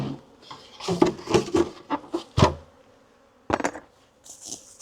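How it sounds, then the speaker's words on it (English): Honey bees buzz as they are bounced from a mated queen nuc into a full-size hive, heard as a burst of close thumps and rustling knocks with buzzing, a pause, then a few more bumps. "Right, bounce the bees in."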